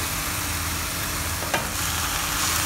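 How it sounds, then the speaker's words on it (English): Minced pork with oyster sauce seasoning stir-fries in a pan for KL pan mee, a loud continuous sizzle with stirring scrapes and one brief clatter midway, and no talk. "Mix them up well."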